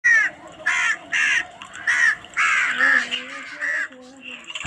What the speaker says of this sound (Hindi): कौवों की आवाज़?